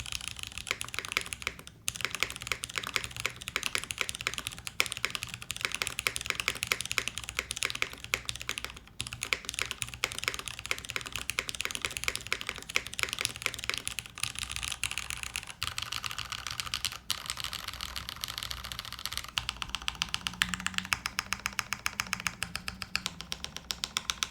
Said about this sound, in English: I haven't finished typing on it yet. I'm just showing you guys the sound.